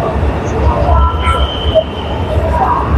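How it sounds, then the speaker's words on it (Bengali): A high-speed bullet train pulls into a station platform in China, its low rumble and whine steady and fairly loud, with people's voices mixed in the background. "এইটা ট্রেন আসতেছে"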